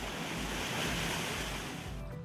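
Water rushes from an opened fire hydrant in a steady, loud, broadband gush that holds for about two seconds before easing, with no talk.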